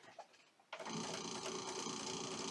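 A home sewing machine stitches quilt fabric for a spring mini quilt, starting after a quiet moment and then running steadily with a fast, even whir close by, with no talking.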